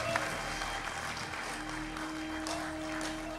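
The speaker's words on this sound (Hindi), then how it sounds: "जोरदार ताली से स्वागत करें" Steady, dense applause from a studio audience welcoming a singer onto the stage of a televised singing competition, with a low hum underneath and no pauses.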